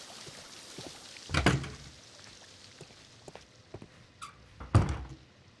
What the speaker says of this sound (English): These doors make a lot of noise.